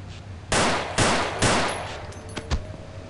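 Pistol shots in the horror video game Afraid of Monsters, three loud, evenly spaced blasts about half a second apart, each with a short decaying tail, followed by fainter clicks and a smaller thump.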